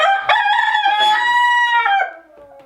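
A rooster in a chicken coop lets out one loud, close crow lasting about two seconds, with a brief cluck just before it.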